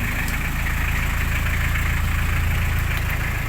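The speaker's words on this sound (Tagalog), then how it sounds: "Wala nang panginginig yung makina." Car engine idling steadily and evenly after a clutch replacement, a continuous low rumble held close with no talk, rain faintly present.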